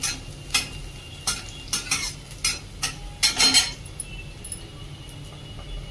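Mustard seeds, cumin and garlic in hot oil under a soft sizzle, with a series of sharp metallic spoon clinks and scrapes against the pan, close and irregular, bunching together midway.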